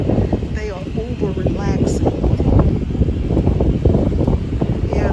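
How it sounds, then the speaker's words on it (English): Wind picking up around a parked RV, a steady loud rushing and buffeting noise against the microphone that continues while people talk. "that wind is starting to pick up more and more"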